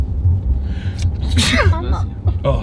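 A single loud human sneeze bursts out mid-clip from someone close by, with a gasp before it, over a steady low rumble and brief talk.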